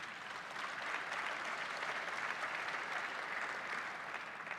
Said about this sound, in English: I'm always going to pause for the applause.